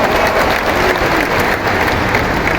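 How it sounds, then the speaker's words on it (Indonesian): A large church congregation at a Christmas service in a stadium setting gives loud, dense, continuous applause that holds steady throughout. "Kasih tepuk tangan yang luar biasa."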